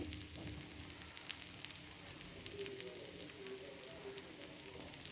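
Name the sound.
pieces frying on a pan over low flame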